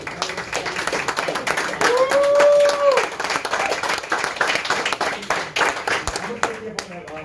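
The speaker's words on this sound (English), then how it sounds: "Now give yourself a hand clap." An audience claps at a seminar-style talk, a dense patter of many hands that swells and then tapers off, with people talking over it and a brief whistle-like tone partway through.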